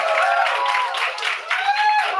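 A crowd cheers and claps through the whole short stretch, a dense, bright wash of voices and applause that stays fairly steady with small swells.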